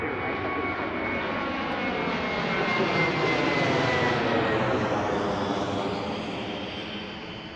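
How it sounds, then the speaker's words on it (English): A jet airliner lands at Reagan National Airport, its engine roar steady and broad, swelling louder then tapering off slightly as it passes, with no voices. "And the next one is touching down already."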